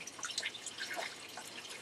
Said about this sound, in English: And you can hear it filling with water.